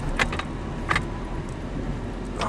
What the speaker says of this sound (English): let me get the truck backed up